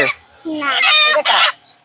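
A native chicken squawks and cackles loudly in several harsh bursts while being given an RDV vaccine, close to the listener, with brief quiet gaps between cries.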